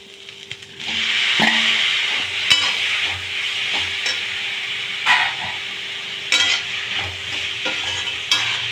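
Chopped tomatoes sautéing in a pan for paneer butter masala, a steady sizzle with intermittent stirring scrapes and clatters throughout, close and continuous with no speech.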